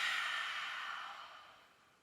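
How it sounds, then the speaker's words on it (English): A soft, breathy exhale through an open mouth during a yoga class, fading steadily over about two seconds, with no talk. "And opening the mouth, take an exhale."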